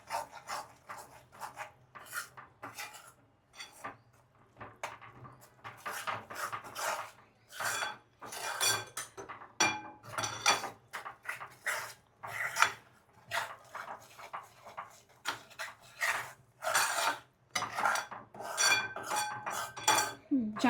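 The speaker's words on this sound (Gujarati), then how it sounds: "અને ઘીમાં જ લોટ નાખી દેવાનો. હવે આને ધીમા ગેસે હલાવવાનું." A spoon stirs and scrapes flour through ghee in a pan over low heat while sukhadi is being made, producing close, irregular scraping strokes and light metallic clinks in quick succession.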